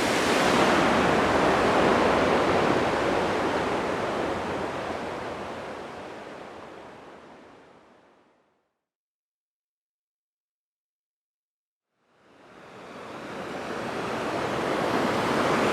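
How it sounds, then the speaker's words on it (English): Sojeongbang waterfall in Jeju, South Korea, pours as a steady broadband roar that fades out to silence midway, then swells back in at full strength, with no voices over it. "A very fine waterfall."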